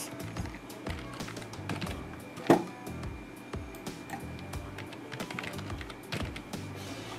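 Keys tapped on a computer keyboard while an administrator password is entered on a Windows PC, a light, uneven run of quiet clicks with one sharper tap near the middle.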